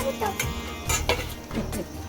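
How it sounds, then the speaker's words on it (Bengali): Sharpunti fish cooking in a pan: a spoon scrapes and clatters as it stirs, over a steady sizzle of frying, all close and fairly loud. "সরপুঁটি মাছ রান্না করছে মা।"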